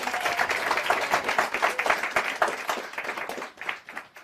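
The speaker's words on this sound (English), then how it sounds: "Give her a round of applause" A small audience at a mentalism performance claps for a volunteer returning to her seat, distinct individual claps forming a moderate, lively burst that tapers off toward the end.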